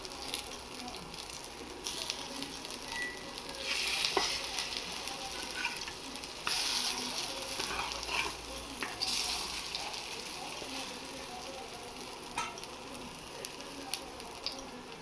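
Bitter gourd leaf fritters fry in a pan with a steady crackling sizzle and occasional louder spatters and utensil taps, close by, with no voices.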